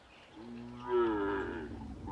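A single drawn-out moo from cattle grazing by preserved forest habitat, fairly close and rising into a strong tone before fading, over quiet outdoor ambience.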